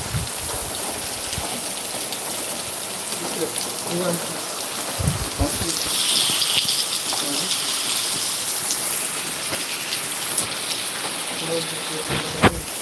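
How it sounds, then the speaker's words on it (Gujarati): Steady rain pours down on nearby surfaces at a market, a constant close patter with a few sharper knocks along the way. "અત્યારે ચાલુ વરસાદ છે"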